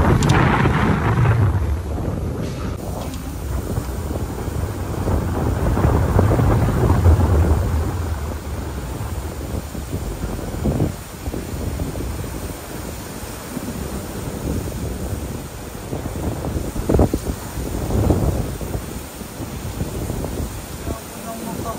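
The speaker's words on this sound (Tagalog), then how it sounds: "Kumikidlat pa." A thunderstorm with heavy rain and gusting wind, including thunder, roars steadily throughout, and a few louder swells stand out near the middle and end. A person speaks intermittently over the storm.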